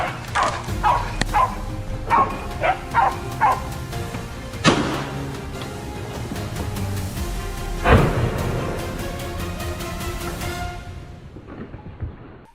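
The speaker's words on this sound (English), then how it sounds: "Leaves rustled and the dogs barked nearer." Hunting dogs barking in a forest during a wild boar hunt, with a rapid series of sharp barks and yips, some close and loud, then scattered single barks and whimpers fading out.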